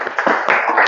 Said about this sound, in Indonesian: Oke, tepuk tangan dulu untuk Regina.